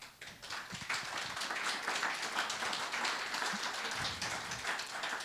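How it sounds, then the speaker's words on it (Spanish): A church congregation applauding, dense overlapping claps at moderate volume that sound like a soft patter, steady throughout with a few low thumps underneath and no clear speech. "Denle un aplauso al Señor"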